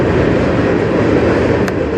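A CN freight train of tank cars rolls steadily past at close range, a continuous loud rumble and rattle with no break.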